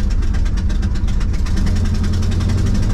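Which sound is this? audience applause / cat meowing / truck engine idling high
truck engine idling high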